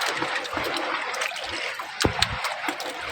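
A strong typhoon blows outside near an island, with rough, whitecapped sea. Steady, moderately loud wind and water wash continue throughout, with a few sharper splashes toward the end.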